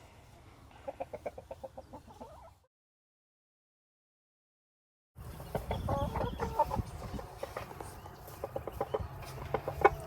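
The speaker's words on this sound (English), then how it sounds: "he will sit in the corner and cluck and encourage the girls to come to him" Rooster Moustache clucking to his hens in a farm pen, a run of soft repeated clucks and low calls, pausing for a few seconds of silence before resuming with busier clucking amid other fowl sounds.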